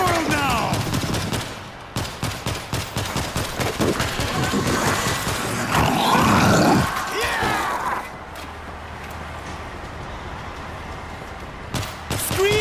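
Rapid bursts of gunfire from the World War Z video game, a rattling automatic barrage early on followed by heavy blasts and sustained shooting, loud and close with a voice calling out over it.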